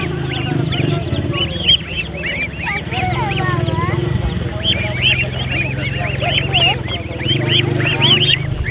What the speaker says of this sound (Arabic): أفراخ وز هاي